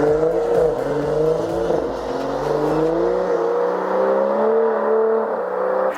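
A G81 BMW M3 Touring estate accelerates with a loud, sustained engine drone whose pitch climbs steadily for several seconds, heard from inside the car.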